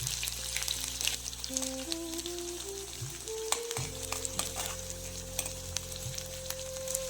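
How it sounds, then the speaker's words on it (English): Chopped onion fries in oil in a kadai with a faint, steady crackling sizzle and a few stirring clicks, under a low background hum of rising and falling tones. "Now add the chopped onion to the kadai and let it cook until the onions become slightly translucent."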